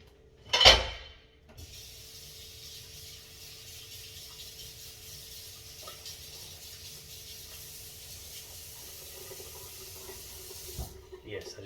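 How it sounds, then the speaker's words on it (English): A fork rinsed under a running kitchen tap: a brief loud clatter at the start, then a steady soft hiss of flowing water lasting about ten seconds before it stops. "I just washed that off with water."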